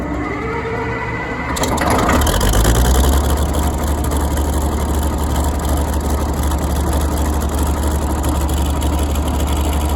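A Caterpillar bulldozer's heavy diesel engine cranks and catches, then runs steadily with a deep, loud rumble and clatter close by.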